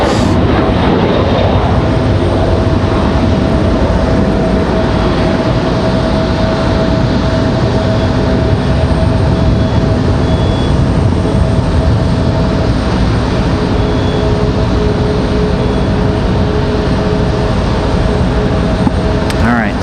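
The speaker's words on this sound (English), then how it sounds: "As the American 737 rolls" American Airlines Boeing 737 jet rolling down the runway on takeoff at Raleigh-Durham International Airport, a loud, steady engine roar filling the whole span at close range.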